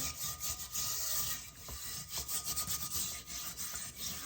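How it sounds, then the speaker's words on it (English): A metal scraper rasps rust off a cast iron pan in continuous gritty strokes, close and fairly quiet, with no voices. "I got my metal scraper here."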